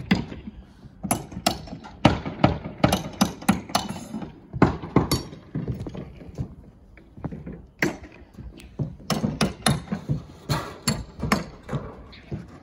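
Workers pull nails on a single-wide mobile home roof, making rapid irregular bursts of sharp prying, clanking and metallic knocks up close.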